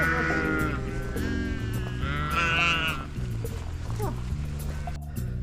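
Sheep bleat loudly and repeatedly, several wavering calls overlapping close by, with a steady low hum underneath.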